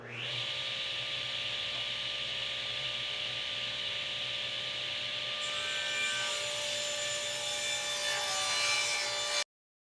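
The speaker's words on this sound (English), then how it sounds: "I was able to rip that down on the table saw" A table saw rips pieces of wood lengthwise, a continuous high whining cut that holds steady for about nine seconds before stopping abruptly.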